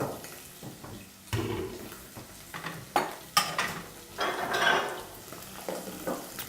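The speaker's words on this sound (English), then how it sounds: "allow for your pan to really get the sizzle in there." Liver sizzles and crackles in a hot pan, punctuated by scraping and clinking as it is stirred, close and moderately loud.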